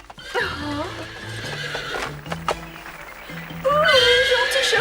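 A horse whinnies in a cartoon scene, with several high, wavering neighs and snorts near the start and a longer, louder neigh near the end, and soft hoof clops in between.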